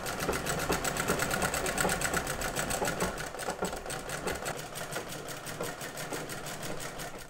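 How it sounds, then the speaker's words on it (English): A sewing machine runs steadily up close, stitching along collar interfacing with a fast, even rattling rhythm that continues throughout without a pause. "now I can sew along the foot of the sewing machine"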